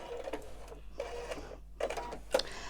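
Sewing machine quilting a Christmas stocking panel in white thread, short bursts of rhythmic mechanical stitching separated by brief pauses, close and moderately loud.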